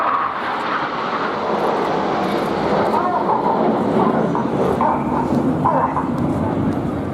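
Red Arrows jets fly in formation at an air show, a steady broad roar that stays fairly distant and sustained, with a voice faintly over it.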